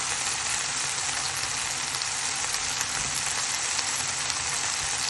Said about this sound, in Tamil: கீரை போட்டு நல்லா வதக்கிடலாம்.